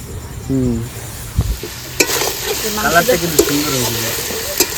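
Chicken fries with dry red chillies in a pan, giving a close, steady sizzle broken by a few sharp clinks and scrapes of stirring, with a voice talking briefly over it.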